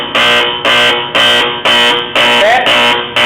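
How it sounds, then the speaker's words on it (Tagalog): An alarm buzzer in a simulated PLC-controlled main air compressor circuit sounds loud and harsh in regular repeating pulses, about seven short beeps with brief gaps. "Then we have the light and buzzer."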